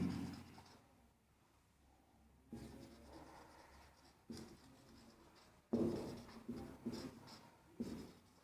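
Chalk or marker strokes on a board while a class 8 maths exercise is worked out, coming as quiet bursts of scratchy writing separated by short pauses, close and faint in a calm room.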